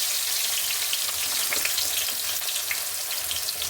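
Small shallots and curry leaves fry in hot oil, a dense, steady hiss and sizzle with faint crackles, close by and without speech.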